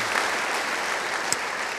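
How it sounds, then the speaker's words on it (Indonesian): A crowd applauds with steady, dense clapping throughout, fairly loud and sustained. "Yang percaya beri tepuk tangan yang baik bagi dia."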